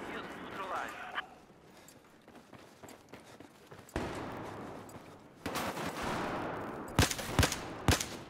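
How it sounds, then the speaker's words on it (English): Scattered gunshots in the Battlefield 3 video game campaign crack out, a few faint early bursts, then a louder volley of sharp shots near the end, with talk between them. "Gunfire."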